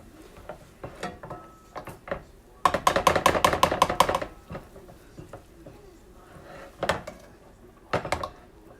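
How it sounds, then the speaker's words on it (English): Potatoes stirred in a pan with butter: scattered close scrapes and taps of a utensil against the pan, with a quick burst of rapid clattering strokes near the middle, then a few more isolated knocks. "Stir your potatoes around"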